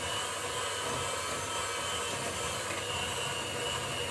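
An electric whisk runs steadily at close range, mixing a coffee walnut cake batter of self-raising flour and soft butter, giving a continuous whirring motor drone with no pauses.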